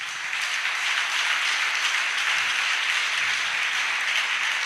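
A church congregation breaks into sustained applause for Jesus, a steady wash of many hands clapping together at full strength throughout.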